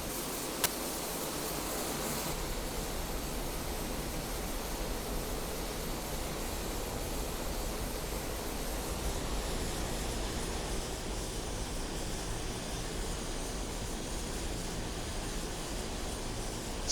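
An A-29B turboprop taxis toward the runway in a flight simulator, its engine a constant, dense broadband roar with a thin high whine, steady and unbroken, with a faint click near the start.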